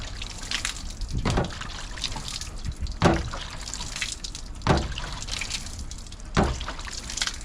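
Water trickles through a funnel into a container, a quiet splashing flow broken by several louder gulping bursts spaced a second or so apart.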